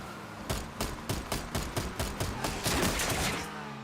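Rapid bursts of video game gunfire crackle in a quick run of sharp, evenly spaced shots, loud and close, with no voices over them.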